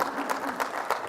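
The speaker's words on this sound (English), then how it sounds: "I was kind of wondering if it'd be applause or kind of discomfort or, there we go" Audience applause after a line in a keynote speech at the cf.Objective() conference: a short, dense wash of many hands clapping at once, steady and moderately loud, with no voices over it.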